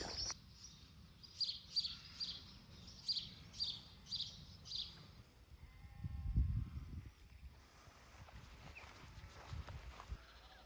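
Sheep in a Nidderdale valley in North Yorkshire bleat repeatedly, a run of evenly spaced calls at a moderate distance, followed by a low rumbling noise nearby and quieter scattered sounds.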